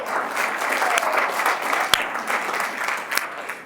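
An audience claps continuously at moderate loudness, a bright crowd texture with a few sharper single claps standing out near the middle and end.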